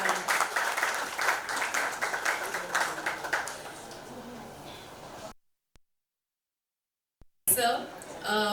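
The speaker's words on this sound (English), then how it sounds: "Can we please have a big round of applause" An audience claps in a round of applause for a guest at a book talk. The clapping is strongest in the first few seconds and thins out, then there is a silent gap before an abrupt loud burst returns.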